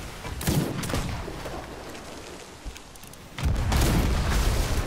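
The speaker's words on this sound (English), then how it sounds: "Right side. Right cannons ready." Cannon fire from a pirate ship in the video game Sea of Thieves: several deep booming blasts, one early and a heavier sustained burst near the end, with rumbling between shots.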